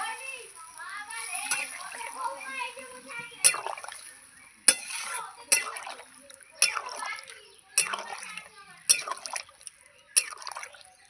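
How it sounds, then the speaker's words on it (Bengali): Water poured into a pan of fish curry with spices, splashing and dripping in a run of sharp bursts close by, a voice talking over the start. "আর একটু জল দেব।"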